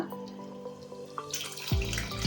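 Water poured into a pot of mutton pieces for curry, starting as a low trickle and swelling into a louder splashing gush near the end.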